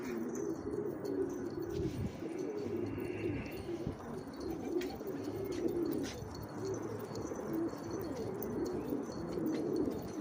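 Domestic pigeons coo steadily in a loft, their low throaty calls overlapping continuously throughout, with occasional brief chirps and faint background rustling.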